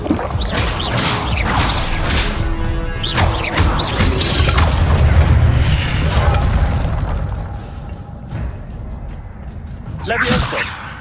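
Incendio fire spell cast in Hogwarts Legacy, a heavy booming whoosh with crashing bursts that swells and rumbles for several seconds, then a second smaller burst near the end, loud and close amid other game effects.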